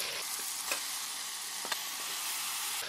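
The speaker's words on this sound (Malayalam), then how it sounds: "അപ്പോൾ നമുക്ക് ഇതിലോട്ട് ചിക്കൻ ചേർത്ത് കൊടുക്കാം" Chicken added to tomatoes frying in a pan for a Kerala chicken curry, a loud steady hiss of sizzling with a couple of brief knocks and scrapes, close and without voices.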